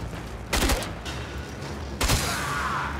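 Two loud bursts of rapid gunfire in the video game Warframe, about a second and a half apart, with a quieter rumbling background between them.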